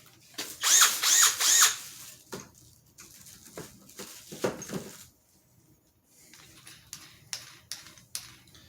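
A power drill enlarges holes in a series of short, loud whirring bursts, followed by quieter intermittent spins and pauses, with no voices.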